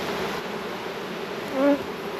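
Agitated honey bees buzz steadily throughout a hive inspection, a dense close drone with one bee whining louder as it passes near.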